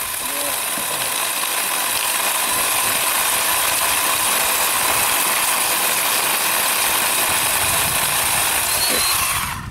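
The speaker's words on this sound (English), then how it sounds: "a 10-inch saw should certainly be able to cut that branch off" A 10-inch saw cuts through a green tree branch outdoors, its engine holding a loud, steady high whine for nearly ten seconds before cutting off.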